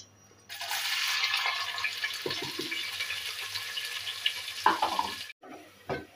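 Onions frying in a pan for kheeri boti, a steady broadband sizzle that runs for about five seconds and then cuts out, with a few stirring clatters near the end.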